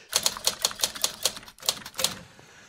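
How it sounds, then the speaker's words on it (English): Rapid mechanical typewriter keystrokes clatter in a steady, close rhythm, about a dozen sharp strikes with a brief pause midway, loud and alone with no voices. "Get my typewriter and my red lights."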